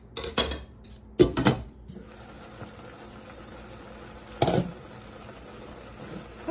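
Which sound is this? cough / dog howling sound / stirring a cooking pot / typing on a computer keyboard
stirring a cooking pot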